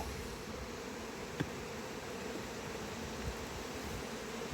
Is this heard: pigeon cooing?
no